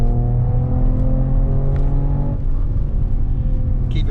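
A 2021 Mercedes E53 AMG Cabriolet cruising on hill roads, its engine holding a steady loud drone with a rising harmonic whine as it accelerates, then settling lower; no voices.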